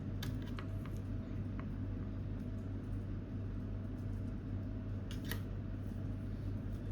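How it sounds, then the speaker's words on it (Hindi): Scissors snip crochet thread in a few short, quiet clicks over a steady low background hum, with no talking. "धागा अगर ज़्यादा लंबा है तो इसको काट के हटा देंगे।"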